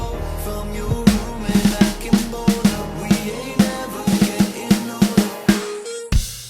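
Restrained pop drum pattern with soft kick and snare hits under sustained music, steady and low-key, ending with a sharp final hit.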